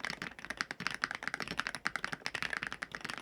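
Rapid, continuous typing on a Skylong GK68 keyboard with an aluminum case and magnetic switches, dense crisp clacks in an uneven burst rhythm, close and alone with no talk.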